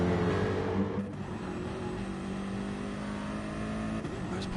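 Gr3 race cars lapping the Interlagos circuit in a sim racing event, engines droning steadily and loud throughout, with one car shifting and another passing close, no voices over the continuous motor roar.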